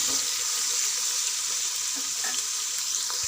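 Garam masala dropped into hot oil as a tempering for chicken curry, a steady bright sizzle with light crackling pops, close and unbroken.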